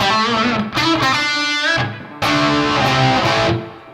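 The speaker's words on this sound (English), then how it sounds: "I'm going to take the gain, which is our crunch kind of tone, or like that crunch distortion sound." Electric guitar through a low-gain crunch distortion tone, with several sustained, slightly gritty chords and notes played at steady volume with short breaks between them, and no talking.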